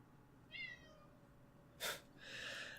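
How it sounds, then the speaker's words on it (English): A cat meows twice close by, a short rising call and then a longer, louder one, with a brief thump between them against a quiet background. "My cat is back at it again."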